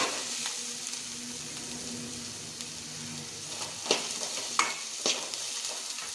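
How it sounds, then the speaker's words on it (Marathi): Carrot, capsicum and beans sautéed in a pan for upma, a steady close sizzle with a few sharper scrapes of stirring toward the end, no voices. "गाजर घालतां. शिमला मिरची घालतां. बीन्स कापून घेतल्या त्यो घालतां. मातशी परतून घेतां."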